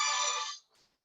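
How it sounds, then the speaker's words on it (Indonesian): An incoming-call ringtone plays from a phone, a bright sustained electronic tone that cuts off after about half a second, followed by faint handling noise. "Sebentar ada telepon masuk ya."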